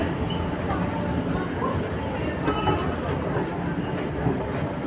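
A Paris metro train rumbles past steadily and close, with continuous rolling wheel noise and faint squeals underground, probably with some talk mixed in.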